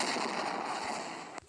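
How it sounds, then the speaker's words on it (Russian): An explosion sound effect for a video editing project, a loud broadband roar and crackle that decays slowly over more than a second before cutting off with a sharp click. "сегодня я вам покажу, как сделать эффект взрыва"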